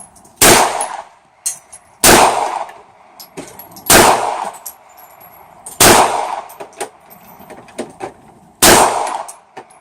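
A Bersa .380 double-stack pistol firing at an outdoor shooting range, with six loud, sharp shots spaced irregularly and each followed by a brief ringing echo, plus quieter clicks and handling noises in between.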